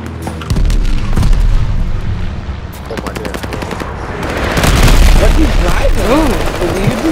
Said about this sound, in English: Friendly bombing run inbound.